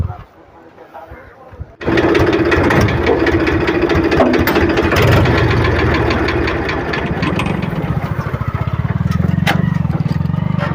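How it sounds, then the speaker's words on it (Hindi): A tractor engine starts up and runs loudly with a steady, knocking diesel chug, close by during a road test, continuing throughout with a slight change in pitch near the end. "अभी हमने इस ट्रैक्टर को रोड टेस्ट किया"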